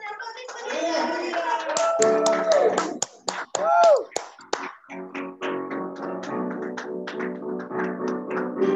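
Hands clap in a Sunday service at an Indonesian Presbyterian church, sharp taps and claps standing out among tonal voices and music, with a burst of clapping early and then steadier rhythmic clapping beneath singing.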